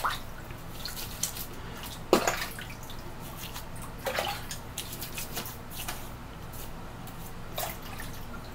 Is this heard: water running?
yes